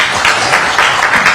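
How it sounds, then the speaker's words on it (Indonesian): An audience breaks into applause, a brief, steady burst of many hands clapping close and fairly loud with no talk over it. "tepuk tangan dulu untuk beliau lah"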